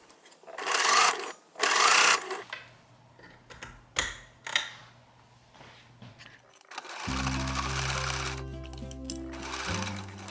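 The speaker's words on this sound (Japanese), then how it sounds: "基本的に同じ作りだからサクサク縫っていっちゃおう。" A sewing machine stitching children's pajamas runs in bursts: two short loud runs early, quieter handling noises, then a longer steady stitching run near the end.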